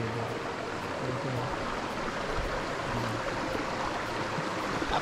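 Running water of the Calinawan River, a clean steady rush and babble heard close and even throughout, with no talking over it.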